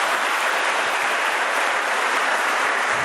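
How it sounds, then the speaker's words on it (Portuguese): Dense, sustained applause from a church congregation fills the space continuously, loud and even with no voices standing out. "Dê um aplauso ao Senhor."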